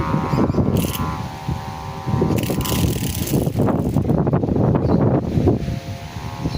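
Strong, steady wind roars and buffets the microphone throughout while flying a kite, with rattling mechanical clicks underneath and no talking.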